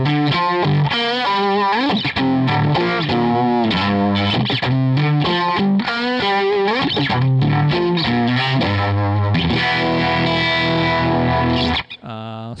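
An electric guitar runs through a Univibe effect on a DigiTech RP1000 multi-effects unit, giving a classic late-1960s tone: a continuous distorted riff with a swirling, throbbing chorus-like wobble, loud and close, with no talking.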